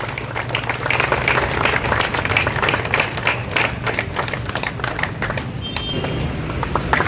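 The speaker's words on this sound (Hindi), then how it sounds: "तालियां होनी चाहिए।" An outdoor audience at an LPG walkathon awareness event claps continuously, a dense steady patter of many hands lasting several seconds, with no talking over it.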